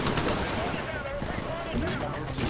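Game gunfire in Titanfall on PC from an R-101C Carbine, a dense, steady stream of shots and battle noise running continuously at close range, with a voice talking faintly underneath.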